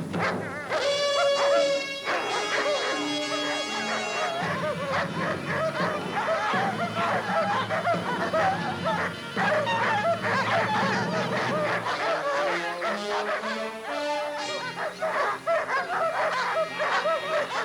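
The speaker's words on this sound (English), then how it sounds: "as much as they love Chris, the dogs don't always get along with each other." Dogs bark and yelp at each other in a noisy, overlapping tussle, with continuous high calls and honking cries close up, sustained throughout.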